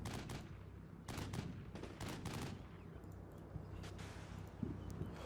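Scattered bursts of gunfire and distant booms in the Combat Mission: Cold War battle between the 1979 US Army and Soviet forces, with intermittent shots and short volleys over a steady rumbling battlefield background.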